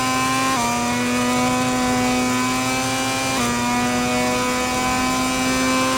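A KTM racing motorcycle engine in MotoGP 21 howls steadily at high revs, with two quick gear-change dips breaking the sustained loud, buzzing drone.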